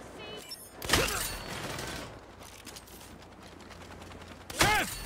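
Shotgun blasts in the Saints Row video game, two sharp, loud reports about three and a half seconds apart, with quieter mechanical clatter and game ambience between them.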